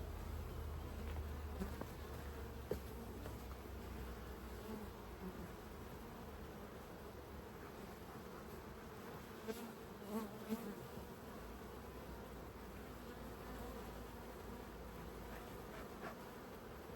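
Honey bees hum in a steady, low drone around a nuc hive box outdoors, a continuous faint buzz with a few individual bees passing closer now and then, no one speaking.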